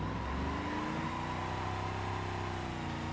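A drag car's engine revs hard for a test launch in the BeamNG video game, a continuous loud, rough roar with dense low harmonics that holds steady and close throughout, with no talking.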